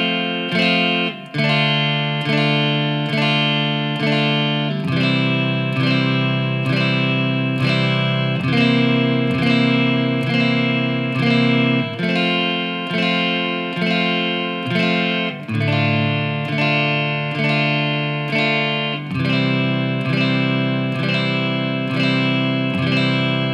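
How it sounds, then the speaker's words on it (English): Electric guitar, run through effects with distortion and chorus, strums the pre-chorus chords of a song, loud and close, with steady rhythmic chord changes and sustained ringing between strums, no talking. "So I play the whole pre-chorus for you, it should sound like this."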